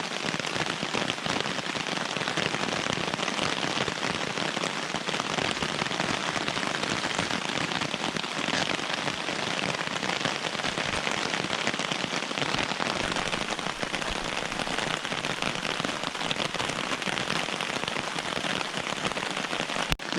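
Steady rain patters on a hammock camping tarp on Dartmoor, a dense, even hiss of drops close overhead that continues without a break, with no voices.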